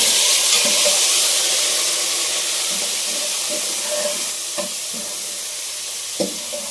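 Cumin seeds and garlic fry in a pan with a loud, dense, continuous hiss that fades a little over time, and a few faint clinks of stirring come through near the end.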